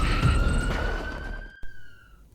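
An ambulance siren wails loudly in a single long tone that holds steady and slowly fades, heard over rumbling background noise with a brief knock near the end.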